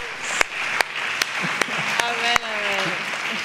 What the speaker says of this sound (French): Vous pouvez vous acclamer vous-même.